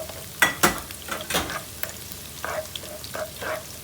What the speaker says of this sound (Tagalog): Kailangan natin mag-brown ng konti yung bawang.